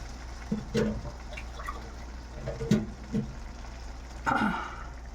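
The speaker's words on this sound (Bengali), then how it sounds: "এই 1 টেবিল চামচ, 1 কাপ পানি অ্যাড করলাম।" A cup of water goes into a cooking pan of cauliflower and cabbage curry in a few short splashy bursts, with quieter drips and rustles in between.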